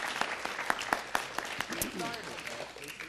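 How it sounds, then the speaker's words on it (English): Applause at a city council meeting honoring a teacher: steady clapping from a modest crowd with a voice speaking over it. "Jeannie, give her a nice round of applause."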